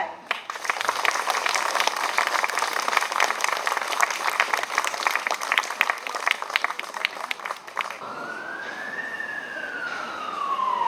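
Warm, steady audience applause welcomes guests at the opening ceremony of a Macau contemporary art exhibition, then stops abruptly and gives way to a rising then falling siren-like tone.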